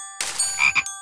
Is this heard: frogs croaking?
yes